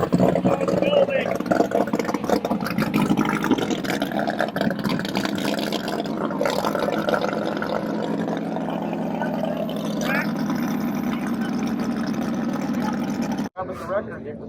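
A land speed racer's motor runs at Bonneville Speed Week on the salt flats, a steady, loud droning roar that holds for the whole stretch with voices murmuring underneath before a sudden brief cut near the end.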